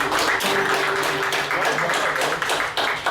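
A church congregation claps during a worship service, rapid overlapping handclaps forming a bright, busy patter with a voice and sustained musical tones underneath, continuing steadily before briefly dipping near the end.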